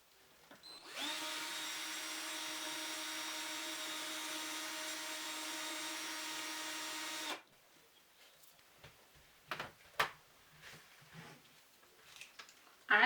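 A power drill running at home while curtain holders go up, one steady whirring burst lasting several seconds, followed by faint knocks and handling noises.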